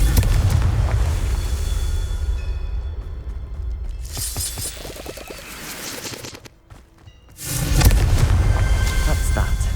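Confringo blasting spell explosions in Hogwarts Legacy: loud booming, crackling bursts that fill most of the stretch, broken by a short quiet lull before another heavy blast.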